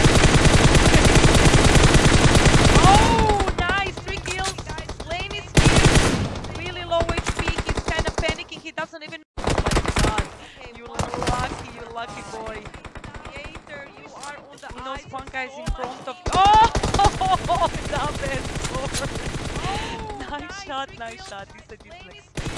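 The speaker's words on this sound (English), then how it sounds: "Randomly shooting in the smoke." Rapid bursts of automatic gunfire in the mobile battle royale game PUBG Mobile, loud crackling volleys and scattered single shots during a scrim match, interleaved with excited commentary from a caster talking throughout.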